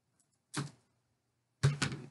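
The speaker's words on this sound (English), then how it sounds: "Maybe I better cut it with a pair of scissors." Two short crisp cutting snips, about a second apart, each a brief bright burst of blade noise in an otherwise quiet room.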